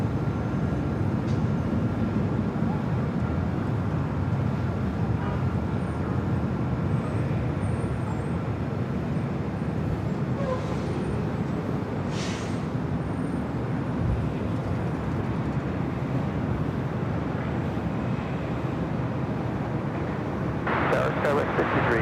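An Airbus A380 airliner at LAX airport produces a steady, broad jet engine roar that fills the whole stretch, with faint radio chatter audible.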